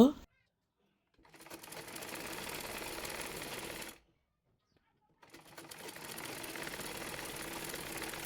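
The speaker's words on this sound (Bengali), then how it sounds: "ওইভাবে অপর পাশের কলিটিও সেলাই করে নেব" An electric sewing machine stitches a long panel of a salwar in two steady whirring runs, close and loud, with a short pause between them.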